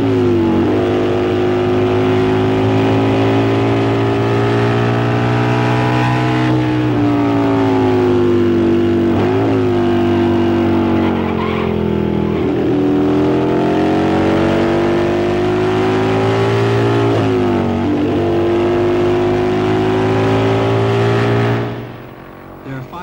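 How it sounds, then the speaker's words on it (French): Road racing motorcycles from 1971 accelerating hard on a track, a loud continuous engine drone with rising and falling pitch as gears change, sustained close for about twenty seconds before cutting off abruptly at the end. "La course sur route est bruyante, précise et très astreignante."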